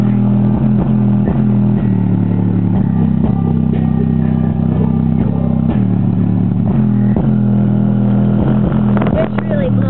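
A bass-heavy electronic music track plays loud through a home subwoofer turned up to full bass, with deep booming low notes pulsing in a steady rhythm and rattling clatter throughout.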